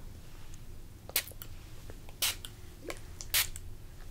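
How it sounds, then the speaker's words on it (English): Three short, hissing sprays from a pillow spray bottle, spaced about a second apart, close by in a quiet room. "And it's just a spray you spray. I'll spray it right now."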